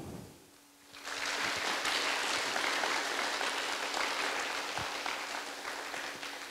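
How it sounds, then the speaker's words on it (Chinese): After a brief quiet moment, a lecture hall audience at a history academy bursts into sustained, dense applause that holds steady and fairly loud to the end, with no speech over it. "让我们以热烈的掌声感谢金明清研究员的精彩报告"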